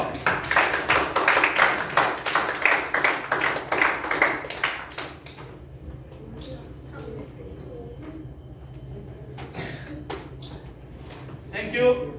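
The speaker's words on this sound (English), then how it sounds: "a round of applause." A room full of people applauds at a youth leadership event, brisk clapping for about five seconds that fades out, followed by quieter murmuring and scattered taps, with a short burst of sound near the end.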